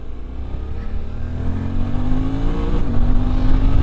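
Suzuki V-Strom 800 motorcycle accelerating hard on the road, engine note rising steadily under power with a loud, continuous drone and wind rush, no talk.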